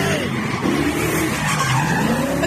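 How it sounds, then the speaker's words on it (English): A black SUV doing donuts at a nighttime street takeover, tires squealing and skidding in a long, wavering screech over a revving engine, loud and continuous with crowd noise around it. "Black SUV had been doing donuts along with other vehicles on Normandy engaged Sunday night"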